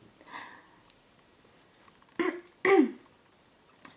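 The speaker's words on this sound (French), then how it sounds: "Excusez-moi si je tousse un peu" Someone with a slightly hoarse voice gives a faint sound near the start, then two sharp throat-clearing coughs in quick succession, close and moderately loud against a quiet room.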